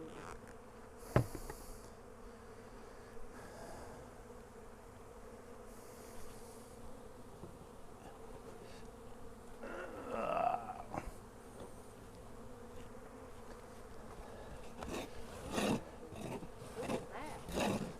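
Honey bees drone around hives set on a pallet, a faint, steady buzz with a few louder passes of single bees flying close by, and no talking over it.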